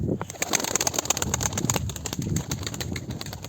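Tumbler pigeons coo softly and repeatedly in a loft, with faint rustling and a high steady whine in the background.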